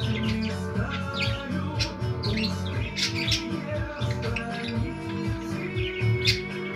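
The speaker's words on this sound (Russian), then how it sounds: "Деятельная птичка у нас, деятельная." A small, busy bird chirps and squawks in quick irregular bursts, close and fairly loud, over a steady background hum.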